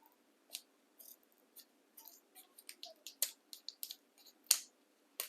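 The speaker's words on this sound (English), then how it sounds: "gonna get my scissors and I'm just gonna" Scissors snip at the top of a plastic bag holding slime, a quiet series of short, crisp clicks and crinkles at irregular intervals, close to the microphone against near silence.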